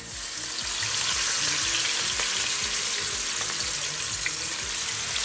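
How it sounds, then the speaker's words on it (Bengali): Rohu fish pieces rubbed with turmeric and salt fry in hot oil with a steady, loud, close hiss and sizzle that holds throughout, with faint crackles on top. "এপাশে রুই মাছগুলো ভাজা হতে থাক"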